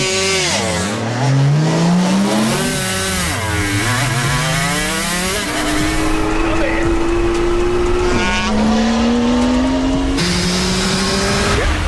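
Toyota Supra with a 2JZ engine racing an Aprilia RS 250 two-stroke motorcycle, loud sustained engine wails rising through repeated gear shifts, harsh and close with screaming revs throughout.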